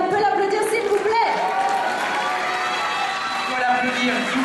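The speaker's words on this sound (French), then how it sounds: "On peut l'applaudir s'il vous plaît." An audience applauds a prize winner at a bartending competition awards ceremony, steady clapping and crowd noise filling the room with a voice speaking over it.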